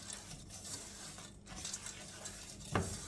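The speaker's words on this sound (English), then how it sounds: "pop your biscuit crumbs into the pan and give that a stir around just to coat your biscuit crumbs nicely in the butter" Biscuit crumbs stirred into melted butter in a pan for a strawberry cheesecake base, a soft, faint scraping and gentle sizzle with one brief knock of a utensil near the end.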